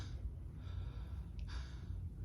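A man imitates someone gasping for breath in his last moments: a short, strained intake of air that stands out midway through a steady low background hum, with no other speech.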